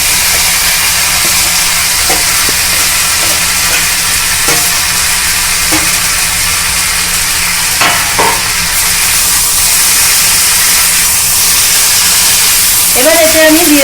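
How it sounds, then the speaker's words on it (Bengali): Potatoes and cauliflower sautéed with ginger-chili-cumin paste in a pan for North Kolkata style singara filling, sizzling loudly and steadily with occasional stirring scrapes. "এই যে কষে রাখা আলুটা আমি এর মধ্যে অ্যাড করে দিলাম।"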